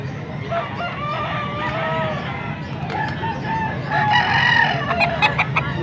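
Bull stag gamecocks crow repeatedly and loudly close by, several overlapping cock-a-doodle-doo calls, with clucking in the flock.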